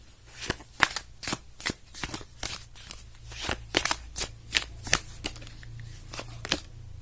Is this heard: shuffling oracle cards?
yes